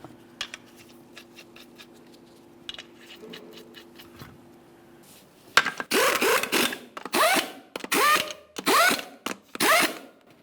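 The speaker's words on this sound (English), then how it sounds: "Start on all 5 of your 21mm lug nuts." Short bursts from an impact tool running on and tightening the 21mm lug nuts of a 1994-2001 Dodge Ram 1500 front wheel, roughly five loud whirring pulses with gaps after quieter clicking and handling.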